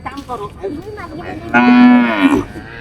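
Cows on a small farm give a single loud, drawn-out moo close by, preceded by quieter low lowing and rustling.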